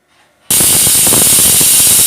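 A pressure cooker cooking Mangalore restaurant-style biryani suddenly lets out a loud, sustained hissing whistle of escaping steam after a quiet start, running steadily to the end.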